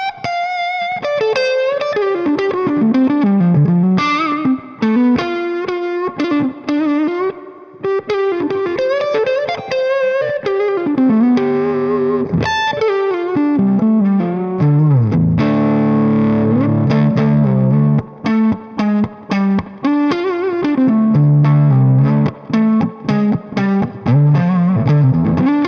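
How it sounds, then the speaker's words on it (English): A vintage 1961 Gibson ES-345 electric guitar on its neck pickup with the tone rolled back plays a continuous, busy lead line. The notes run densely with a slightly driven, chorus-like colour, loud and close, with no talking. "So impressed with the way that neck pickup sounds."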